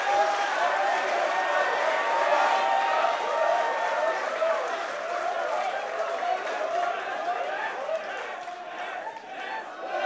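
Dense wrestling arena crowd at the Tivoli for Over The Top Wrestling, roaring and chanting steadily with scattered clapping, a loud continuous wash of voices that stays strong throughout and swells near the end.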